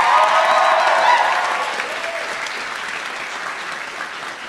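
Applause and cheering from an audience at a graduation and white coat ceremony, a dense burst of clapping that starts strong and slowly fades.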